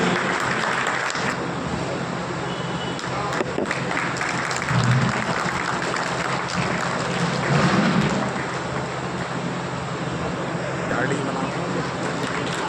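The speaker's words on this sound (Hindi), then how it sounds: "आप जोरदार ताली बजाइए" Audience applause at an award ceremony in Pilkhwa, a broad wash of clapping sustained throughout with a PA announcer talking over it.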